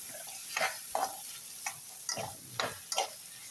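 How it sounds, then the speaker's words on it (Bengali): Cabbage frying in a pan, a soft sizzle broken by about six short scraping stirs of a utensil in quick irregular succession, close and without talk. "আজকে পাতাকপি ভাজতে আসছি।"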